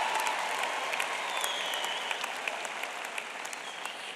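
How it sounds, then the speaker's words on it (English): Sustained audience applause fills a university commencement hall at MSU Denver, a dense steady patter of many hands clapping at moderate distance, evenly continuous throughout with only slight fading near the end. "You can clap."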